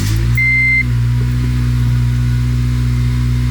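A 2008 Honda Civic Si engine starts with a short cranking burst, then settles into a steady, close idle with a brief electronic beep just after startup.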